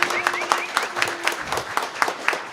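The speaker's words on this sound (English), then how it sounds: "Can we give them a round of applause, please?" Scattered clapping from a church congregation at a Sunday service, individual claps spaced apart rather than a dense roar, with faint tonal sounds behind.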